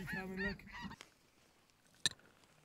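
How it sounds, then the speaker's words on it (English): Goose honks in a brief cluster at the start, followed by a quiet stretch with one sharp, faint call near the end. "But the snow geese are just covering us up."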